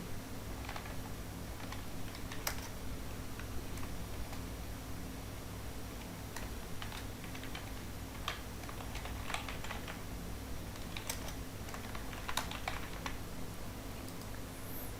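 Computer keyboard typing with scattered, irregular key clicks over a steady background hum, close but soft, no speech.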